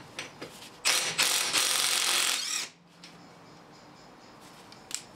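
A Kielder KWT-002 half-inch drive 18V brushless impact wrench undoes wheel nuts on a van outdoors with one loud, rattling hammer burst of about two seconds, then near quiet with a few faint clicks.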